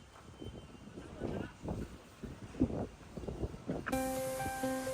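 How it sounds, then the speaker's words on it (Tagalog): Strong wind from Typhoon Ragasa rushes as a steady broadband roar outdoors while a voice talks over it, with a sharp shift in the gusting noise near the end. "Kasi malakas pa rin ang hangin."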